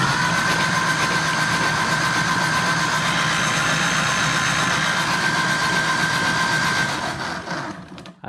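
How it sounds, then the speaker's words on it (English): A Ford industrial engine cranked by its starter, producing a steady, droning churn with a high whine that runs for several seconds, then cuts off abruptly. "I'm wondering if the starter isn't turning it over fast enough"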